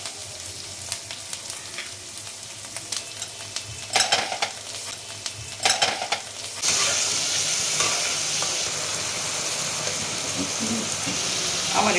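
Spiced masala of cumin, cloves, cinnamon and cardamom being stirred and fried for chhana dalna, a steady sizzle with scraping strokes that grows louder and denser after a few seconds, with no talk.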